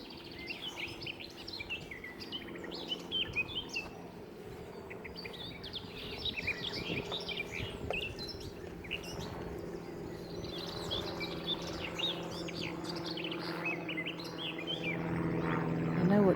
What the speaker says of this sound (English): Forgotten what an amazing songbird the black cap is.